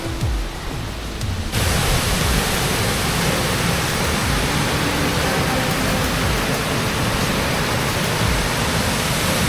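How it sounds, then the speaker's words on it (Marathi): Monsoon waterfall at Vangani Bhagirath near Mumbai roars as a loud, dense, unbroken wash of falling water that fills the scene, rising sharply after a quieter first second. "पाणी नाही काय पोचलं एका धबधब्याच्या इथे"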